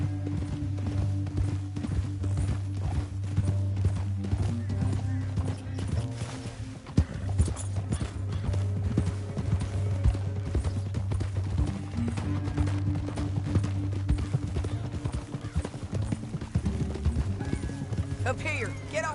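Horse hooves clip-clop in the video game Red Dead Redemption 2, a steady rhythmic trot of several horses throughout, with occasional snorts, under a low rumbling background and voices talking.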